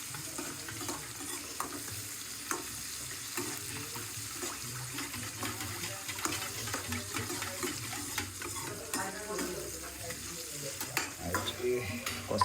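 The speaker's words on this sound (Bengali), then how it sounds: "কষা মাংস হচ্ছে একদম" Meat sautéing in a pan for kosha mangsho, a continuous sizzle mixed with watery bubbling and frequent scraping stir strokes, close and steady with no voices.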